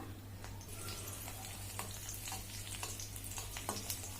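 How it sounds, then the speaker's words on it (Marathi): Crushed garlic frying in a small amount of hot oil, a soft continuous sizzle with light crackles and occasional stirring scrapes, steady and fairly quiet throughout. "तेल ना गरम झालंय आणि थोडंसं आहे ना मी लसूण घालणार आहे"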